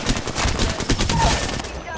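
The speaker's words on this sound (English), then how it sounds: "They're shooting at me." Rapid video-game gunfire crackles continuously in an online arena shooter match, dense bursts layered with a speaking voice throughout.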